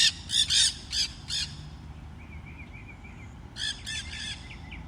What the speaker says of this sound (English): I'm just pausing for the birds.